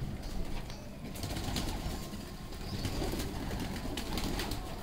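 Red-eyed pigeons kept by a fancier coo in low, repeated murmuring calls, close and continuous against a busy outdoor background, with no talking.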